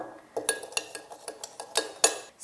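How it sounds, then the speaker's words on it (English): A mixture of glue, contact solution and baking soda is stirred in a container, giving a series of light, irregular clinks and taps of utensil against vessel, close and fairly quiet. "I'm going to stir that around."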